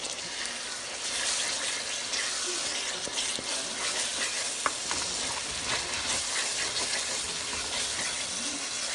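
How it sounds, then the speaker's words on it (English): Water added to thick tomato paste in a hot pan on high heat while cooking chicken soup, giving a steady loud hiss and sizzle with faint bubbling throughout. "Add in a little bit of water to kind of mix it all in."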